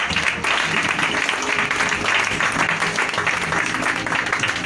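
A church congregation applauds during a worship service, a dense, steady wash of clapping that fills the space at a constant level for a few seconds.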